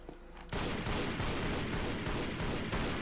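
Gunfire in Tomb Raider: Legend erupts after a short quiet lead-in, a sustained rapid volley of shots rattling on loudly with a steady pulsing rhythm.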